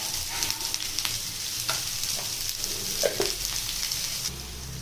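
Chopped onions sautéing with a pinch of salt in a pan, a steady close sizzle with occasional stirring scrapes and clinks, no voices.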